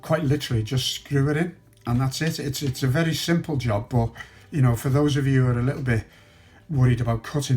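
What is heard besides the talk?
No everyday noises stand out.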